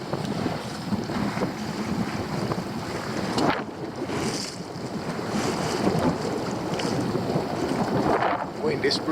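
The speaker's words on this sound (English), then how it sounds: "Wind is pretty steady." A single-handed sailboat on Lake Keitele in Finland moves through steady wind, with continuous wind rush against the microphone, water washing along the hull and occasional louder gusts throughout.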